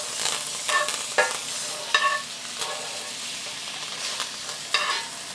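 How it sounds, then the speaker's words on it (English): A steak sears loudly in a hot pan right after being flipped, a steady close sizzle with sharp crackles and pops breaking through every second or so; no one speaks. "let me flip over that steak so you can see how fast that crust developed"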